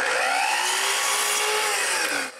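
A power drill bores through a wooden ball held over a hole, a steady loud whine with rising tonal overtones lasting about two seconds before the motor cuts off.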